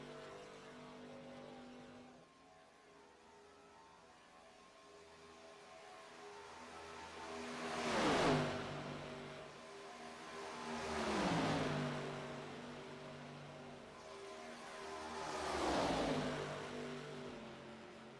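Race cars in a NASCAR racing video game at Daytona, heard as three separate engine roars that swell as each car passes close by and then fade, with a steady engine drone in between.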